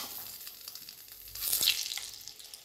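An egg sizzles in hot oil in a pan as it fries for a home-style egg curry, a soft crackling hiss that swells into a brighter burst of spitting midway, close and with no talk.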